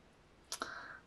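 A Cricut Maker 3 cutting machine starts a vinyl cut with two quick faint clicks followed by a brief whirring hum, heard close and quiet.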